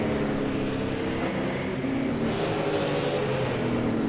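A super late model race car engine roars steadily and loudly under acceleration, a continuous droning whine holding for several seconds without a break.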